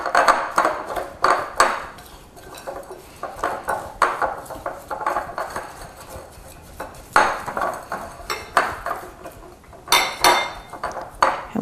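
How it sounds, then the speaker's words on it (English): A spatula scrapes and knocks against a bowl while mixing a butter mixture for nut and honey tassies, a string of irregular clinks and scrapes, close and fairly loud, with no talking. "Make sure you scrape off your spatula regularly so that all that butter gets incorporated"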